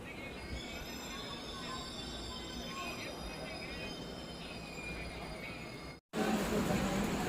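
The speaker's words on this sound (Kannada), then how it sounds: "platform number 2ಕ್ಕೆ Gol Gumbaz express entry ಆಗ್ತಿದೆ" The Gol Gumbaz Express from Mysore to Pandharpur pulls into platform 2 at Arsikere Junction, its wheels squealing and rumbling loudly and continuously close by, with a brief cut near the end.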